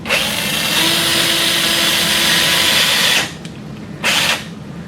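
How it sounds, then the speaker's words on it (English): A cannulated power drill drives a 1.5 millimeter guide pin into the capitate of a sawbones wrist model: a loud, steady, close whine for about three seconds, then a short second burst after a pause. "we'll be using a cannulated power drill"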